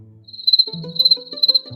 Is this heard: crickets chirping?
yes